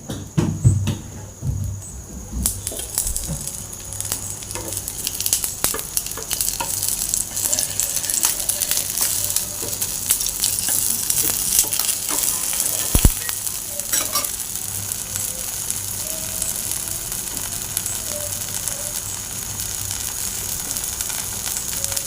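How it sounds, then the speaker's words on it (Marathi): Thalipeeth, a spiced multigrain flatbread, frying in oil on a pan, giving a loud, steady sizzle and crackle that runs for the whole stretch with brief spattering pops. "थालीपीठ आपण भाजून द्यायचे."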